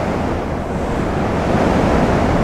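Strong, steady wind roars at a beach, with broadband gusting rush and surf-like noise filling the whole stretch at a loud, constant level, no voices present.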